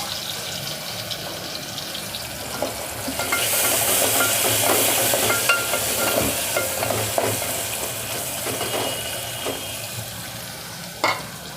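Small pieces of onion and tomato fry in hot oil with cumin and asafoetida for a Gujarati mixed vegetable dish, giving a steady close sizzle with stirring and light utensil scrapes.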